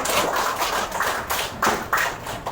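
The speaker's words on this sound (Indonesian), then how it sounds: "Baik, tepuk tangan buat Akbar" A seventh-grade classroom claps for a student, a short, sparse round of uneven hand claps with distinct individual slaps rising and falling.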